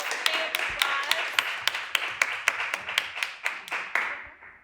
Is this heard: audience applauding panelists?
yes